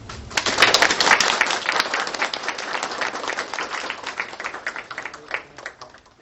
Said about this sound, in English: Let's give him a round of great applause.